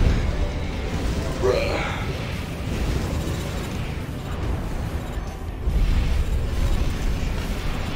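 Missile explosions in the mecha game Armored Core: For Answer, a dense, continuous rumble of blasts and booms that swells around the middle and again near the end, with no clear gaps between impacts.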